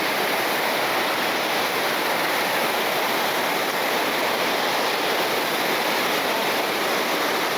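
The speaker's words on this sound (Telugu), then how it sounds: "ఇదే డుడుమా రాణి డుడుమా వాటర్ ఫాల్స్" Rani Duduma waterfall roaring in a steady, dense, unbroken rush of falling water, loud and close, with no talk or other sounds rising above it.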